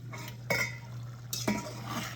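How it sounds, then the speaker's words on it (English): Bolognese sauce being stirred in a pot with a utensil, two or three distinct scraping, clinking strokes over a low steady hum and faint simmer. No talking. "I'm going to stir it a little bit"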